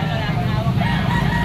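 A rooster crows loudly and close by at a busy poultry market, a sustained call over a dense background of crowd noise and other fowl, with faint engine hum mixed in.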